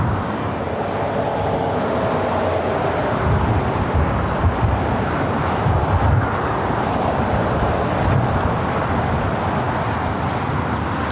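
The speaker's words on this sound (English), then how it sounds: "We do have the Asiana Flight 204 coming in from Seoul, A380 Super, heading here to the north side" An Asiana Airbus A380 arriving from Seoul on approach to LAX's north side, heard as a broad, rumbling roar with gusty wind buffeting the microphone, steady and moderately loud throughout.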